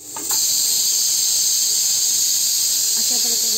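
A pressure cooker of dal vents steam in a loud, steady high-pitched hiss and whistle that holds for several seconds, close to the microphone, with a faint voice near the end.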